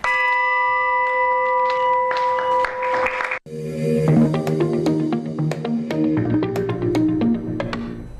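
A ceremonial bell rung to open trading at a stock exchange, a series of bright metallic strikes ringing out after a sustained tonal chime, with light applause-like noise behind.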